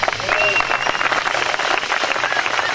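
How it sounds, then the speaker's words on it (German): Audience applause at an event with a cyclist, a loud, continuous wash of clapping from a crowd, with voices mixed in underneath. "einen ganz, ganz tollen Applaus zu geben"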